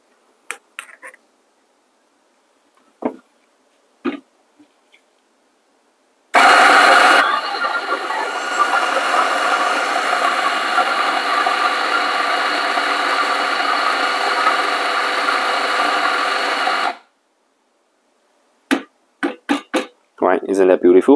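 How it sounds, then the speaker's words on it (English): A Fiorenzato Allground coffee grinder whirs loudly and steadily for about ten seconds as it grinds beans, a close, even mechanical drone that starts and stops abruptly, with brief clicks and knocks before and after. "let's grind again for the third time and hope I can get the grind size dialed in this time"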